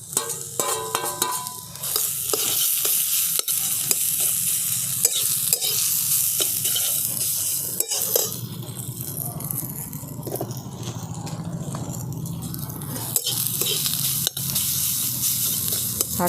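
Boiled susni greens and fried potatoes sizzle in a pan under steady scraping strokes of a spatula, a continuous close frying hiss with occasional sharp knocks and no voices.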